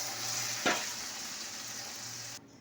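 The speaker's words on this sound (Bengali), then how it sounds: "মশলা কষা হয়ে গেছে, এবার জল দিয়ে দিলাম" Water poured into fried spice paste in a pan, a soft steady sizzle with a brief sharp hiss burst, fairly faint and ending abruptly.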